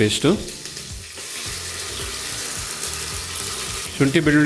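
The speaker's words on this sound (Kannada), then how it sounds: "ಪೇಸ್ಟನ್ನು ಸಹ ಸೇರಿಸಿ ಒಂದು 30 ಸೆಕೆಂಡು ಎಣ್ಣೆಯಲ್ಲಿ ಫ್ರೈ ಮಾಡಿಕೊಂಡ್ರೆ ಸಾಕಾಗುತ್ತೆ." Ginger-garlic paste frying in hot oil in a pressure cooker with green chillies, while making palak rice, gives a steady, busy sizzle with some clattering, close up and fairly loud throughout.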